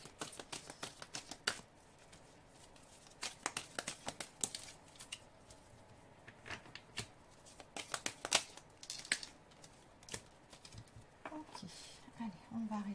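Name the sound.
shuffling oracle cards for a card reading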